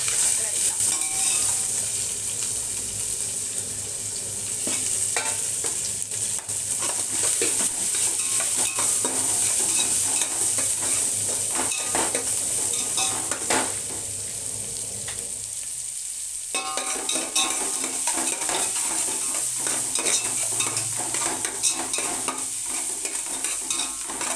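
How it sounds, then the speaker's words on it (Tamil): Onions sautéing in a pan for dum biryani, a steady bright sizzle running throughout with frequent scraping stir strokes and utensil clatter, close and continuous with no talking. "வெங்காயம் நல்லா வதங்கணும்."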